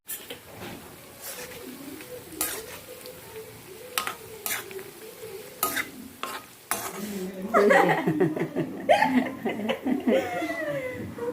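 Food sizzles and crackles in a pan with scattered clinks and stirring. Voices and laughter join in toward the end.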